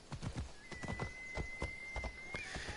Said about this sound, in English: She sounds like the horse in Dragon Age Inquisition.